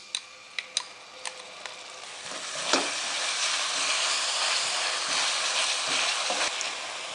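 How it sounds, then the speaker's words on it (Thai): Garlic, five-spice powder and soybean paste stir-fried in a pan for a braised-duck sauce: a few light taps of a spatula first, then a loud, steady sizzle that holds close and continuous to the end. "พอกระเทียมหอมแล้วก็ใส่ผงพะโล้ลงไปค่ะผัดให้มีกลิ่นหอมเลยค่ะ"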